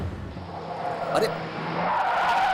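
A taxi driven recklessly skids with a sustained tire squeal rising over engine noise, close and loud, with a brief sharper screech midway.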